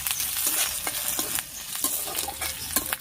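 Black mustard seeds and crushed ginger frying in hot oil as a tempering for dal, a steady close sizzle with scattered small pops and crackles throughout, no voices.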